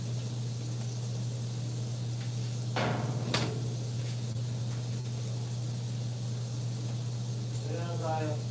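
A door swings shut indoors with a brief, sharp knock near the middle, set against a constant low electrical hum that runs throughout.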